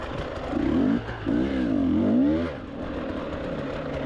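An enduro motorcycle at a spring cross-country race, its engine revving hard while slipping without clutch grip, rising and falling in two long wailing bursts, then dropping to a rougher idle-like drone with faint clatter.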